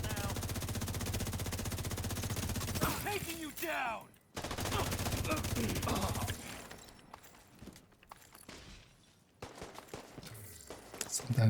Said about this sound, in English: sometimes we shoot them with the SMG